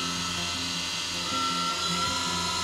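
Motor of an Axminster AC355WL woodturning lathe running steadily as its speed is adjusted, with a continuous whirring tone and drifting pitch bands that shift slightly midway, fairly close and alone.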